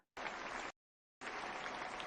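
Two bursts of clapping separated by a brief silence, dense and even, like an audience applauding close by.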